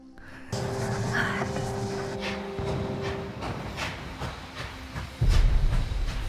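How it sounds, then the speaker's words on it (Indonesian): A heavy military cargo train pulling away slowly on its rails, with a continuous rumbling roll, metallic creaks and hissing, and a deeper surge of rumble near the end, fairly close and steady. "Meluncurlah kemudian kereta itu dimulai dengan kecepatan yang lambat."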